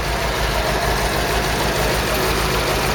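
A Ford Cortina MK3 engine idles close to the microphone, a loud, steady low rumble with a faint regular pulsing beat and no voices.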